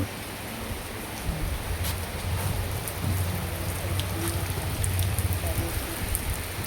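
Steady, heavy rain pours down as a dense wash of noise, with a low rumble underneath and occasional louder drips standing out.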